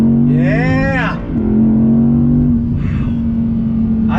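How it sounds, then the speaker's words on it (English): A 2020 Audi R8 braking and downshifting, its engine note dropping and blipping with a small exhaust pop, loud and close, with a steady engine drone underneath and someone talking over it. "On the brakes, nice downshift, little pop out of the back from the exhaust."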